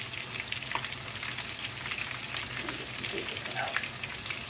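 Super jumbo coconut shrimp fry in hot oil with a dense, steady sizzle and crackle close by. A brief spoken remark passes over the continuous bubbling.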